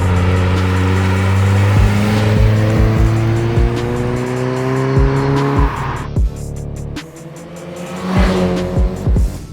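A stock Mazda Miata driven hard on a winding canyon road, its engine rising and falling in pitch through gear changes with brief tire squeal, loud and close throughout, with no talking.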